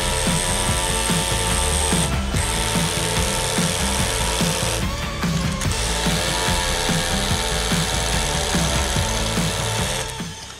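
A Hikoki SDS-Plus rotary hammer drills an 18 mm hole into concrete, its loud, rapid hammering chatter running almost nonstop for about ten seconds with only brief dips before winding down.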